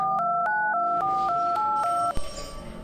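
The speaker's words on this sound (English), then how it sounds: "She reached for her phone and dialed Detective Milk." A telephone is dialed with a quick run of about eight touch-tone beeps at an even rhythm. A click follows, then a faint hiss.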